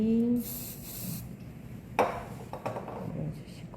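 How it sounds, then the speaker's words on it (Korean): Hairspray hisses onto an updo hairstyle in a brief aerosol burst, followed by soft brushing and rubbing sounds close by. "스프레이 뿌려놓으시고"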